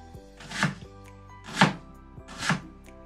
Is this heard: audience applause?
no